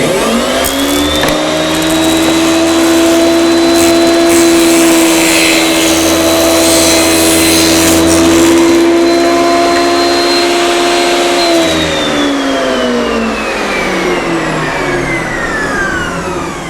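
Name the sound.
table saw ripping a thin wood strip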